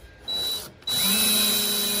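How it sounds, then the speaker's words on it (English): A DeWalt 20V Max cordless drill whirs up close in two bursts, a brief spin, a pause, then a longer steady high-pitched run as it drives a screw. "So you can drill the screw in"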